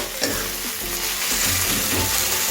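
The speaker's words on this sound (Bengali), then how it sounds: "আমি এটাকে নাড়তে থাকবো যতক্ষণ না টমেটো একটু সফট হয়ে যায়" Tomatoes frying in a pan for ridge gourd bharta, a dense continuous sizzle with rhythmic scraping strokes of a spatula every half second or so, close and loud.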